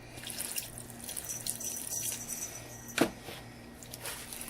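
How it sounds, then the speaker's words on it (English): Water runs and trickles steadily into raisin walnut bread batter, with a brief splash or clunk partway through and no talking. "I'm going to add some more water to this"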